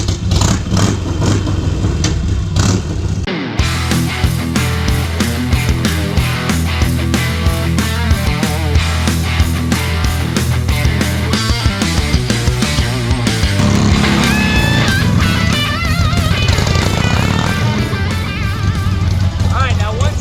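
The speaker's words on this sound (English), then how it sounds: "First step is to completely smoke the old one." Harley Sportster motorcycle held in a burnout to smoke off the old rear tire during a tire change, loud sustained engine revving with roaring, rising and falling throttle and gritty clatter, close and continuous throughout.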